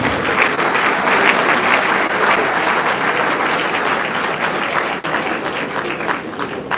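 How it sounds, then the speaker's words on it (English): A large audience at a university convocation ceremony applauds in a loud, continuous wash of clapping that holds steady for several seconds. "Please, another round of applause."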